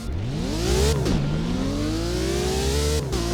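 Lamborghini Veneno engine in a video game revs loudly and close, the pitch climbing, dipping after a quick shift, then rising again in a smooth, sustained drone.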